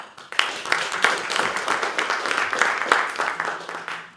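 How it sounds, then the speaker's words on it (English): Audience applause at a policy presentation on the UN Biodiversity Lab and spatial data: a steady, fairly loud wash of many hands clapping that holds for about four seconds with scattered sharper claps, without speech. "So please, let's give a round of applause to Annie."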